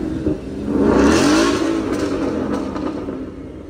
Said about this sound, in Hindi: V8 इंजन है भाई, बंद मत करो